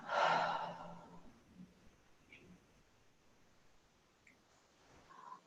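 A person breathes out deeply and audibly during a guided breathing exercise, one long sighing exhale at the start, then quiet.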